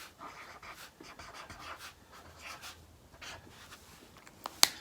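Marker writing on a paper alphabet card, soft rhythmic squeaky strokes, close but faint, ending in a sharp tap.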